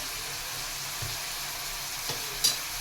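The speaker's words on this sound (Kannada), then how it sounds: "2 ಟೊಮೊಟೊ ಚೆನ್ನಾಗಿ ರೋಸ್ಟ್ ಹಾಕಬೇಕು" Two tomatoes roast in a pan with a soft, steady sizzle. A few quiet clicks from stirring break through, ending in one brighter scrape.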